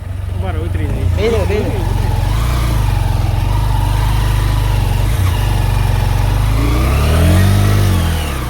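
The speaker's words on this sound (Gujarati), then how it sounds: "અજ્જુભાઈ બાઇક ચલાવે છે" A motorcycle on a rough forest road runs with a loud, close engine drone that rises and falls, while voices talk over it.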